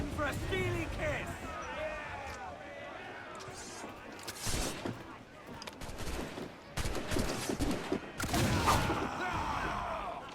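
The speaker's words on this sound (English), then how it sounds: "I open with a swivel gun, I take out a explosive barrel." A ship's swivel gun fires during a naval battle in Assassin's Creed, with several sharp booming shots and crackling impacts scattered among sea and battle noise, while a voice speaks at the start.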